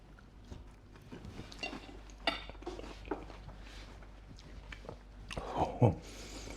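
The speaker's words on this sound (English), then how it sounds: "Let's try just some of the pastry with some of the mash and gravy." Close, quiet chewing and biting of a mouthful of veggie Wellington pastry with mash and gravy, with soft cutlery and plate clinks.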